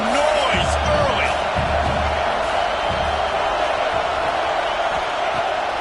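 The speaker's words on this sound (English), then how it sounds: "This crowd bringing the energy and noise early." A stadium crowd roars steadily in NCAA 26 college football, a loud continuous wash of cheering and noise with thumps and whoops throughout, under a commentator's talk.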